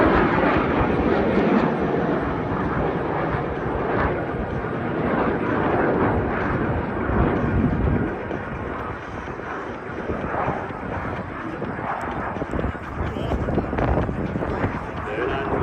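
Aerobatic airplanes make crossing opposition passes at the AERO Gatineau-Ottawa airshow, a steady broad engine roar with swelling and fading tones and wind buffeting, while an announcer talks over it.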